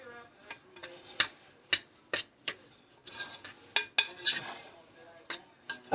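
Utensil clinks and scrapes against a bowl while honey buttermilk cornbread batter of cornmeal and flour is stirred, a series of sharp, irregular taps near the mic with brief busier scraping in the middle.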